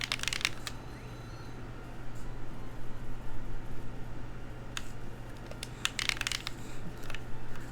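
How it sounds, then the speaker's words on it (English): Game controller buttons clacking right beside the microphone during a Pokemon Rumble stream: sharp, clustered plastic clicks in a few short bursts over a steady low hum and background hiss. "there's some sort of like controller clacking ASMR going on here"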